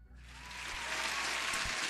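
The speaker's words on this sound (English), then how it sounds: "Thank you for joining and huge applause." A burst of applause swells quickly and holds, a bright wash of many clapping hands, loud and with no voices over it.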